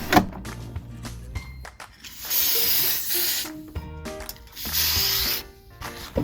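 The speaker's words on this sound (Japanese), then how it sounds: "潤滑剤を吹きかけましたが、ちょっときついな。" Lubricant sprays from an aerosol can onto a stiff, self-made replacement part for the entry door screen of a small camper van, two close hissing bursts of about a second each between clicks and ratchety mechanical rattles.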